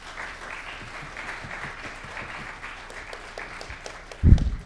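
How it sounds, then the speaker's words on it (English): A conference audience applauds panelists with steady, moderately distant clapping that continues evenly, ending with a brief louder thump near the close. "let's give a round of applause to our panelists"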